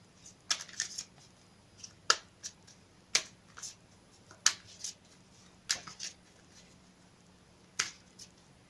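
Quick crisp riffling and snapping of tarot cards, a series of sharp clicks and flutters at irregular intervals, close and fairly quiet.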